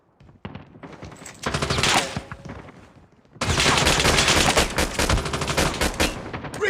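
Rapid automatic gunfire bursts in Call of Duty Mobile, a shorter volley followed by a longer, louder sustained stream of shots, close and dense.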